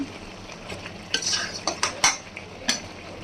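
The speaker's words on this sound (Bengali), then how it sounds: "ভেজে রাখা আলুগুলো দিয়ে দিলাম দিয়ে দিয়ে একটু নাড়াচাড়া করে" Fried potatoes get stirred into a country chicken curry in a pan, with several sharp metal spoon scrapes and clinks against the pan over a low background sizzle.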